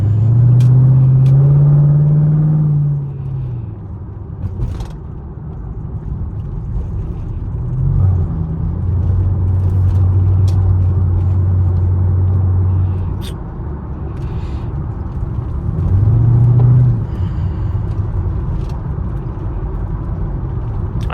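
Chevrolet Camaro SS driving late at night, its deep engine rumble steady throughout, with low droning tones that rise and settle as the car moves along.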